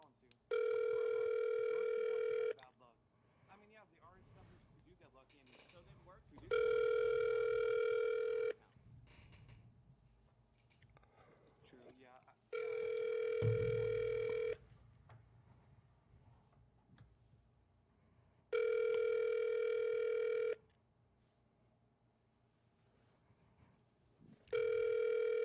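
A telephone ring-back tone sounds on the line while a call is placed, four even buzzing rings spaced several seconds apart with faint voices and rustling in the gaps between them.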